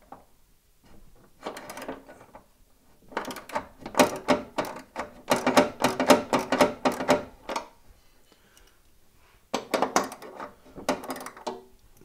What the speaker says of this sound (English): Now here is the back trunnion underneath that I couldn't get to. I'm just going to go ahead and loosen